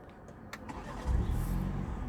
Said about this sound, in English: All right, that's how you start the car.